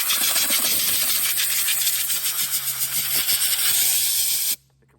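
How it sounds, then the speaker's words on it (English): An air compressor's blow nozzle hisses loudly and steadily as compressed air cleans a chainsaw outdoors by a woodpile, with the blast cutting off abruptly just before the end. "The compressor would just kick on."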